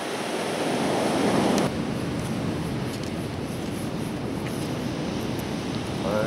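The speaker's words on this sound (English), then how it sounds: "It's an absolutely stunning situation with the waves crashing in here at Westdale Bay." Sea waves crash and wash in at Westdale Bay on the shoreline, a loud continuous roar of surf with wind buffeting the microphone.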